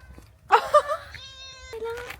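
A cat meows loudly and close by, one drawn-out meow followed by a shorter, rising second call, with little background noise.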